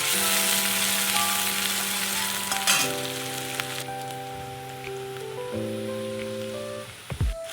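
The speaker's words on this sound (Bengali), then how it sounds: "তেলের ওপরে আমি পেঁয়াজগুলো দিয়ে এবার একটু ভালো করে পেঁয়াজটা ভেজে নেব।" Chopped onions fry in hot oil in a home kitchen for a small-potato dum curry: a steady, close sizzling hiss runs through the whole stretch, with a few stirring bumps near the end.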